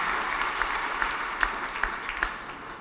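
A church congregation claps together in praise, a sustained spread of applause with a few sharper accented claps standing out at regular intervals, no voices on top.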